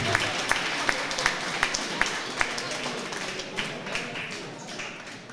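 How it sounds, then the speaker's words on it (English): Steady applause from a large crowd at a junior boxing championship, dense and continuous, with a few sharper claps standing out near the start. "keep the applause going for our silver medalist from Garshiel's Boxing Club, Mason Maycock."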